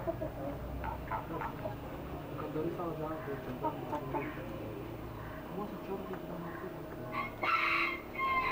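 An Aseel rooster crows loudly near the end, following a stretch of someone talking amid clucking and farmyard background noise.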